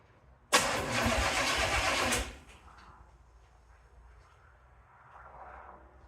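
A car engine is started with a key on a newly installed starter: a sudden loud cranking roar lasts about a second and a half, then drops to a much quieter, low idle rumble, with no talking.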